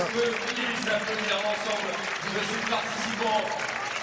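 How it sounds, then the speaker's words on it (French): Stadium crowd applauding hurdlers after a race at an international athletics meeting in Sotteville-lès-Rouen, a steady wash of clapping and crowd noise throughout, with a commentator talking over it. "les 7 participants qui ont droit aux applaudissements nourris du public ici à Sotteville-lès-Rouen"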